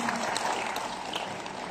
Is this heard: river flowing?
no